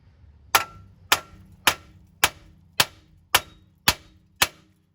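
Eight sharp hammer whacks ring out at an even pace on the steel tie rod end of a 2009 Dodge Caravan. Each strike is crisp and close, with a short ring and quiet between blows.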